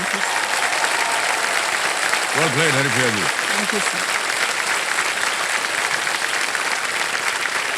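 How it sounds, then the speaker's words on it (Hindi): Studio audience applauding on the KBC quiz show, a steady dense clapping that runs through the whole stretch, with a host and contestant briefly exchanging words over it. "तालियां बज जाए इनके लिए एक बार फिर जोर से"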